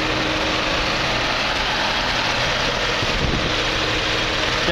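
A 2013 Cadillac ATS's 3.6-liter DVT direct-injection engine running, a loud, dense, steady mechanical whir and hum heard close up with no speech.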